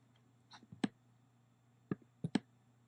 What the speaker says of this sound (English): Sorry for the laptop clicking noise.